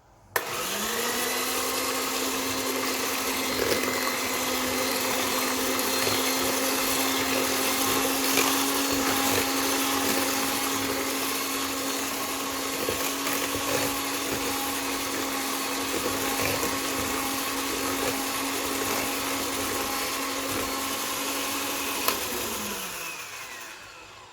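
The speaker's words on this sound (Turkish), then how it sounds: "Mikserimi çalıştırıyorum." An electric hand mixer whirs steadily for over twenty seconds mixing eggs with granulated sugar, a loud constant motor hum that starts abruptly and winds down at the end.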